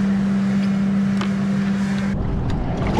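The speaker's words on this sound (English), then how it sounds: "So sorry about the noise from this container ship behind me" Container ship engine on the Brisbane River, a loud, steady low drone with a constant hum and wind rushing across the microphone, continuous throughout with no talking.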